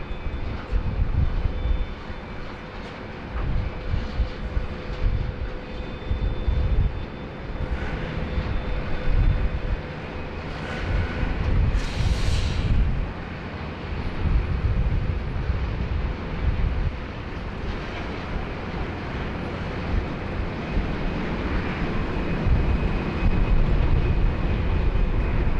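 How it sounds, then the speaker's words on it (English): A Dash 8 turboprop taxiing at Sydney Airport gives a constant engine drone with a thin propeller hum, steady and fairly loud, with a brief brighter swell near the middle. "Looks like the Dash 8 they're getting a roll through all the way down to the end"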